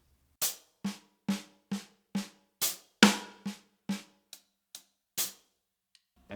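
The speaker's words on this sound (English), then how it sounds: "when you put these 2 groups of 6-stroke rolls together, that you basically get the whole groove" A drummer plays a sextuplet groove of 6-stroke rolls split between snare and hi-hat. Evenly spaced, close, sharp strikes come in a steady run, with one stronger accent and a few softer taps near the end.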